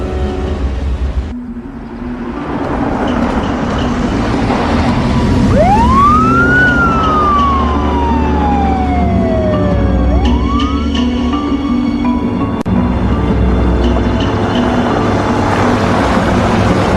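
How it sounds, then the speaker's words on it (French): Police sirens in a French-language action film, a rising and falling wail sweeping across the middle of the scene over a dense rumbling background, loud and fairly close. "Et on évite les sirènes."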